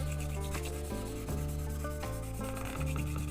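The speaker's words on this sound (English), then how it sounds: "I'm going to start sanding" 2000 grit sandpaper rubbed by hand across a clear plastic lid makes a soft, steady scratchy rub in short back-and-forth strokes, quiet and close, with no talk.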